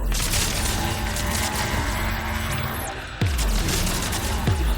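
Gunfire from Geth combat software in the sci-fi shooter Mass Effect 3 comes as a steady rattle of shots, with sharper bursts near the end.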